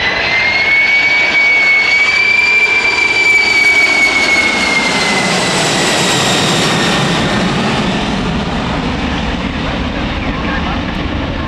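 A Boeing 747-400 in a low-level, high-speed pass gives a loud, sustained jet-engine roar with a steady whine. The roar holds across the whole clip and briefly rises in pitch early on, with no one talking over it.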